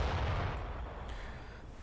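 Artillery shelling in Company of Heroes, a World War II strategy game, with a Panzer Elite player under siege: a heavy low rumble that rolls and slowly decays over under two seconds, with no distinct separate blasts.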